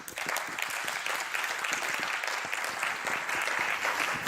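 An audience at an AI conference talk applauds steadily, dense clapping sustained throughout at moderate loudness.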